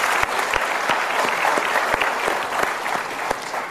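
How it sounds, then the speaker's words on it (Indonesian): Audience applause fills a live motivational talk show hall, a steady dense clatter of many hands clapping close and loud throughout, with a faint voice underneath. "kita berikan tepuk tangan sekali lagi untuk Mas Pepeng."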